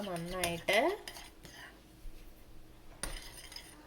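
A spoon clinks and scrapes against a bowl while mint, coriander and chili paste is stirred into mayonnaise, with a brief burst of clattering near the start and another sharp clink later, close and moderately loud.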